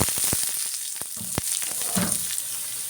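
Spinach fries in oil with garlic paste and green chilli, a close crackling sizzle punctuated by sharp spatula clicks and knocks against the pan, with no voices.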